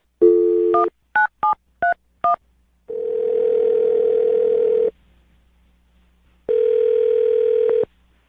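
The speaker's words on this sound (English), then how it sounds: "I'm going to dial her phone number right now" A loud burst of telephone keypad tones, several short beeps in quick succession, followed by two long ringback tones separated by a pause.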